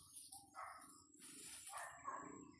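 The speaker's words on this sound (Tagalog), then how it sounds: "May mga aso banda sa unahan." Several dogs bark in short bursts at a moderate distance, overlapping irregularly against a quiet background.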